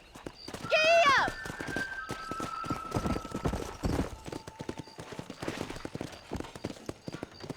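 A horse in the Red Dead Redemption video game whinnies sharply, then its hooves clip-clop at a steady trot close by, with a voice talking over the rhythmic hoofbeats.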